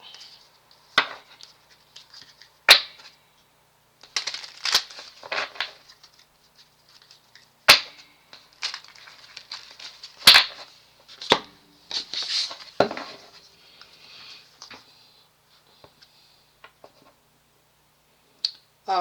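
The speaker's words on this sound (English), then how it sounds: "Let me shuffle these real quick." Playing cards shuffled and handled, with scattered sharp snaps and soft flicks coming in irregular bursts, close and fairly loud against an otherwise quiet room.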